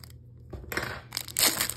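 Crinkly cutting and crunching as scissors slice open a cardboard box of trading cards, a couple of bursts close up with short rustles between.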